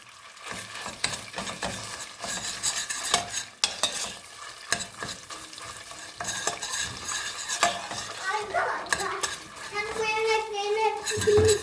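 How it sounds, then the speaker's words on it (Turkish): Tomato paste stir-fried in a mix of butter and oil, giving a steady sizzle with frequent scraping and clinking of a utensil against the pot, close and fairly loud, with someone talking over parts of it. "Şimdi salçamı ekliyorum. Salçamı kavuracağım."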